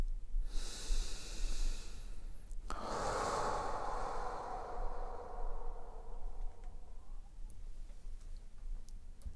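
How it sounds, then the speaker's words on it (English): A single slow, deep breath is drawn in and let out softly and close, a faint airy rush that swells then fades into quiet room tone. "Take a deep breath."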